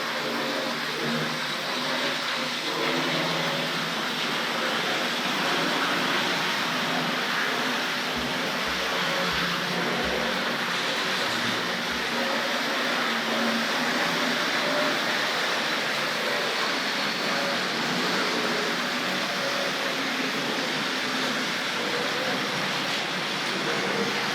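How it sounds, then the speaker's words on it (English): A Hornby Class 31 model diesel locomotive hauls ferry vans around a layout with a loud, constant rushing whir that stays even throughout, broken by a few low rumbling clunks partway through. "A noisy pair of trains, these, I think."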